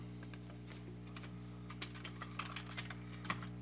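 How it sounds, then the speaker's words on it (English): Faint keystrokes tap on a computer keyboard in short irregular bursts over a steady electrical hum in a quiet room, with no talking. "So let's type that in there."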